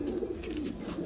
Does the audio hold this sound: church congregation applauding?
no